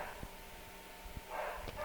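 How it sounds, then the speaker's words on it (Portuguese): Dogs bark out in a residential street, a few short, faint, distant barks spaced irregularly over a low background hum. "Vocês me perdoem aí os latidos de cachorro aqui da minha rua"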